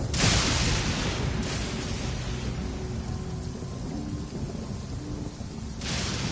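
Heavy rain pours steadily and loudly throughout while deep rumbles of thunder roll beneath it, swelling at the start and again near the end.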